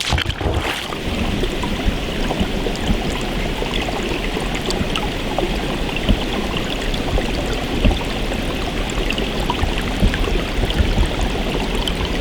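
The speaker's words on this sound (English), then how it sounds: "I'm standing on the bottom filming some beautiful brooks here." A brook flows in spring woods, close and loud, a steady rushing gurgle of water running without pause.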